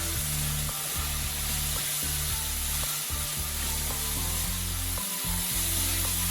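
Garlic paste sizzling with fish in a hot pan as it caramelizes, a continuous loud frying hiss with repeated scraping strokes of a utensil stirring through it.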